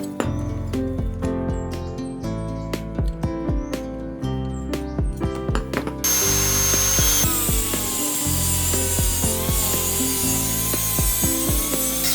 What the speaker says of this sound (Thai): เริ่มจากตัดเศษเหล็กยาว10เซนติเมตร